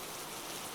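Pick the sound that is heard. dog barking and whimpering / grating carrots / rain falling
rain falling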